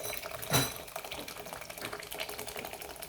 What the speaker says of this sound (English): I'm just going to fill it with water.